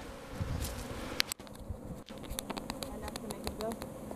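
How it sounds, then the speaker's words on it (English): A dense, steady buzzing of many bees close by at a comb inside a wall, with scattered clicks and taps and faint voices in the background. "There's a shit ton of bees."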